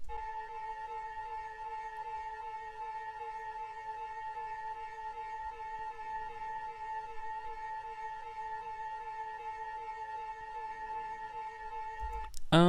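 A layered, siren-like synth sample in a type beat, with steady sustained tones that hold a faint wavering pitch. It plays quietly and alone for about twelve seconds, then ends with a brief burst.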